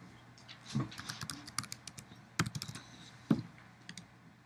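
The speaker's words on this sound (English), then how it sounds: "you could type that in the legs field" Computer keyboard typing at a wildlife rehabilitation workstation, scattered bursts of clicking keystrokes with short pauses between them, close and clear, with no talking over them.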